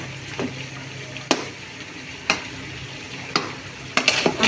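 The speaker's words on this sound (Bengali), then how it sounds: "আমি মাংসটা কষাই নিচ্ছি" Meat frying in a pan while being stirred, a low steady sizzle with four or five distinct scraping knocks of a spoon, the last ones bunched together, close and without talk.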